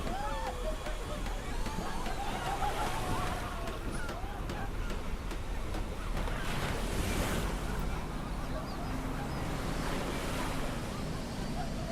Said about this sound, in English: your mind naturally correlates this sound with the ocean